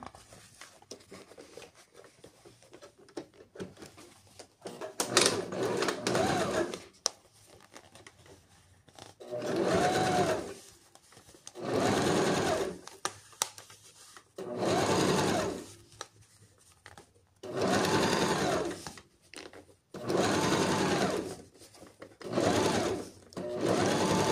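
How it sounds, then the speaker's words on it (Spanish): A sewing machine stitches a zipper onto fabric while a pencil case is made, running in repeated bursts of steady whirring separated by short pauses, close and fairly loud with no talk. "vamos a coser ahora en este extremo el cierre también"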